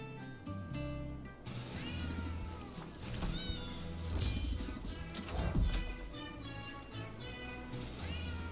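Cats in the video game Potionomics meow and caterwaul repeatedly and loudly over game music, with a crash-like sound effect mixed in.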